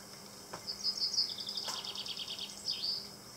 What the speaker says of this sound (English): Blackbirds and the wood pigeons and the chaffinches.